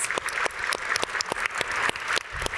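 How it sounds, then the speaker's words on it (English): Conference audience applauding two panelists at a women-farmer dialogue event, a dense, steady wash of many hands clapping close and fairly loud for nearly three seconds. "Will you join me with a round of applause for these two wonderful leaders, please?"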